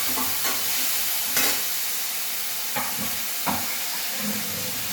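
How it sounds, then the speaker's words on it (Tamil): Tomatoes frying in a pan, a constant sizzle with a few louder bursts of stirring and spattering, close and alone without talk. "இந்த ஸ்டேஜ் வந்ததுக்கப்புறம் இதில் தக்காளியை ஆட் பண்ண போகிறோம். தக்காளி ஆட் பண்ணியாச்சு."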